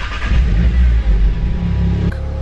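A 370-horsepower car engine starts and revs loudly up close, its deep roar holding steady before dropping back toward idle near the end.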